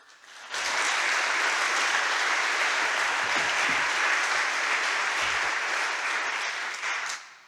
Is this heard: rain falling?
no